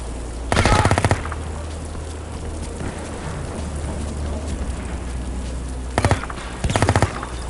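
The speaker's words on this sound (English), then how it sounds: "Sounded like that guy had a Dragunov too." Bursts of rapid rifle fire in the Project IGI military airbase level, taken for a Dragunov sniper rifle: one burst near the start, then two more near the end, with a steady rain-like hiss underneath.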